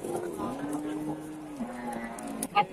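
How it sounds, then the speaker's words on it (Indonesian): A Javanese cow in a calf sale pen lets out one long, low, steady moo, fairly close, with a shorter second call after it and faint voices and shuffling around the animals. "Ini sapi Jawa"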